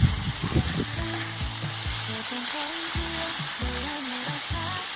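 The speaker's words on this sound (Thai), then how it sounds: "คั่วเขาอีกสักเล็กน้อยครับคั่วกลิ้งให้เขาแห้งๆนะครับ" Minced pork khua kling with sliced kaffir lime leaves stir-fried dry in a pan with no oil, giving a steady close sizzle. Brief scraping strokes come through while someone talks over it.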